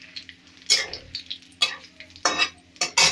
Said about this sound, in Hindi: मसालों को पकने देंगे जब तक इसकी झाग खत्म ना हो जाए